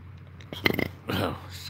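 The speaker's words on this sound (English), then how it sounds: "burping again" A single close burp comes in two short gurgling bursts, moderately loud, in a quiet room.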